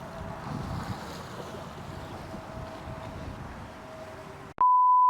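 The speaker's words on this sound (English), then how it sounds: "It's so windy." Strong outdoor wind buffets the microphone in a dull, roaring rush that lasts several seconds. It then cuts off abruptly into a steady electronic beep tone.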